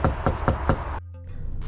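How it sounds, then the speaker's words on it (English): Four even knocks on a door at a food delivery drop-off, close and sharp in a steady rhythm, then a brief quieter stretch. "Knock on the door."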